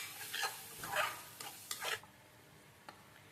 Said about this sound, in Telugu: యాడ్ చేసుకొని బాగా కలుపుకోవాలి